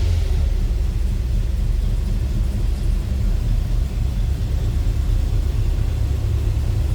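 A 1957 Chevrolet Apache 3100 pickup engine idles steadily, a loud, continuous low rumble close by with no pauses and no voices.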